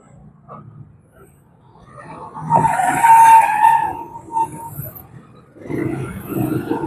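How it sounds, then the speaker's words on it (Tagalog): Road traffic on the Calumpang–Nagcarlan road in Laguna, with cars passing close by in surges and a tire squeal, plus brief talk in the background. "Traffic na dito."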